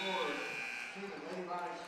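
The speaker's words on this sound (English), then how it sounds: "As you hear the buzzer" A final buzzer sounds at a girls' high school basketball game, a sustained electronic drone lasting about two seconds over crowd noise, with an announcer talking across it.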